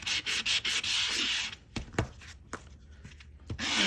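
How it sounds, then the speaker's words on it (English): Sandpaper rubs briskly across a handmade Christmas card to distress its edges, a quick series of short scratchy strokes up close, followed by softer, sparser scuffs and taps. "If you're heavy-handed or if you use a thicker sandpaper, you're going to have more of a distressed look"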